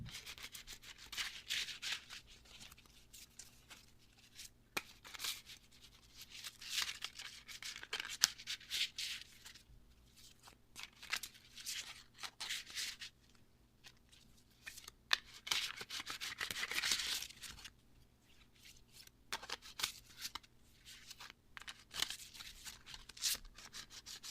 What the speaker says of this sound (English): few shuffles and we'll see what comes up.